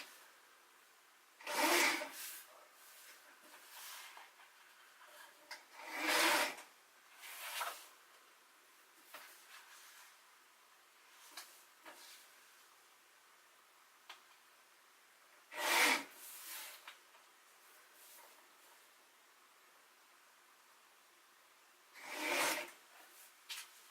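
Paper is cut into two 2-inch strips for a card spine, heard as several short scraping, rasping bursts spaced apart in a quiet room, close and fairly soft.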